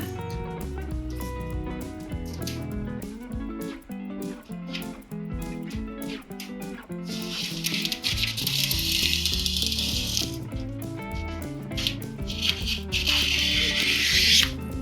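Material for a handmade bouquet being cut with scissors after folding: close rustling and rubbing, with a brighter crisp cutting and scraping stretch partway through that fades and then returns near the end.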